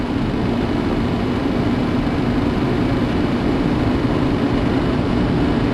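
Airliner jet engines in a flight simulator game roar steadily at takeoff thrust, a loud, dense broadband rush that holds constant throughout with no talk.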